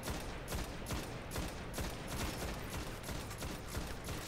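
Rocks fired from the Fang in the video game Destiny come as a fast, regular volley of sharp bangs, about two per second, dense and loud, with no voices.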